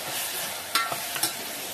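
Onion sautéing in a pan, a soft steady sizzle with a couple of brief spatula scrapes and stirs standing out, close and fairly quiet with no talking.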